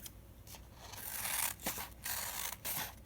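Scissors snip through a paper stencil for journaling, a few close, crisp cuts in quick succession with short pauses between, quiet and without speech.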